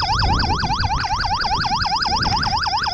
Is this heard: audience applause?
no